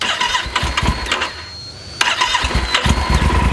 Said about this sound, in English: So I'm going to start the bike up,